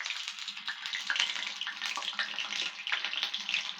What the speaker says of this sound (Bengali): তেল এবং মশলাপাতি দিচ্ছে।